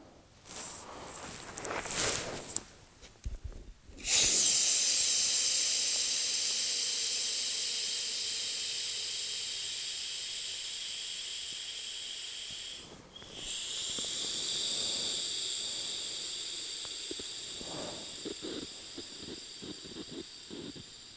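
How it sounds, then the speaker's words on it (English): A long, loud hiss of air rushing out of a sleeping mat as it deflates, steady and fading slowly, cut briefly by a rustle before a second strong hissing stretch follows. "that's a deflated sleeping mat"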